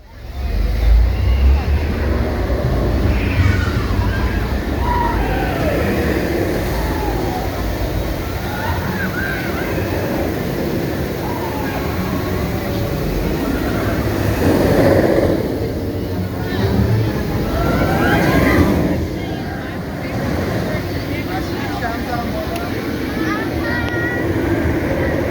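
The Incredible Hulk roller coaster at Islands of Adventure, ridden on a rainy day: a continuous rushing rumble of wind and track that swells and falls through loops and turns, with riders talking and shouting over it.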